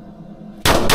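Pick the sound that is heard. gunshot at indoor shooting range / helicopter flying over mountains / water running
gunshot at indoor shooting range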